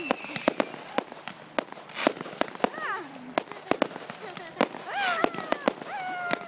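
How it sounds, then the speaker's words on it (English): Fireworks crackle and pop in quick, irregular bursts at a model flying club evening event, with sharp reports scattered throughout and voices chattering underneath, moderately distant. "look at the plane flying through the fireworks"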